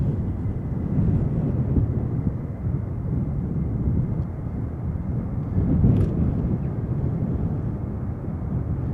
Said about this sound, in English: up next, KLM Flight 623 outbound to Atlanta, Georgia, Airbus A330-300